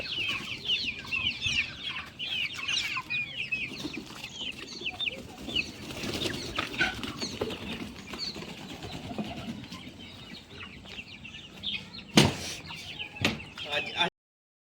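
Hens cluck and chatter continuously at moderate distance, with scattered bird calls and a couple of sharp knocks near the end.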